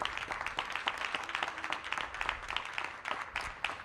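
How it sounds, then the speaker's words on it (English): An audience applauds in a dense, steady burst of clapping after a speaker introduces a community development guest at a mayoral task force launch for the Gallery Place/Chinatown neighborhood. The claps are moderately distant and sustained, with no talking. "Give Jody a big round of applause."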